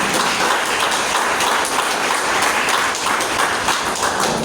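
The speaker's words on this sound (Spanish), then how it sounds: "denle un aplauso a Jesús." A church congregation claps loudly and steadily in sustained, dense applause that fills the room evenly throughout, with no speech standing out above it.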